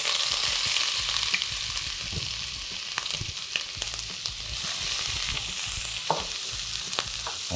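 Onions sauteing in a pan for a sweet potato and callaloo dish, a steady close sizzle with occasional stirring scrapes, no talk.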